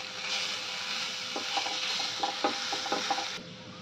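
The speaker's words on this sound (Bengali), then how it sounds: "এবার ভালো করে মিক্স করে দেবো মশলাগুলো" Cumin powder and Kashmiri chili powder are stirred in a pan: a soft steady sizzle with a string of scraping, clicking spoon strokes near the end, close and fairly quiet, no voices.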